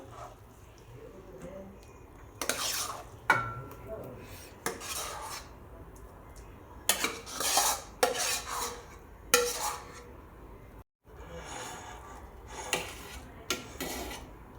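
Spoon scraping and clattering against a pan while beetroot halva is mixed, a series of sharp, separate scrapes and knocks at close range with quiet gaps between them.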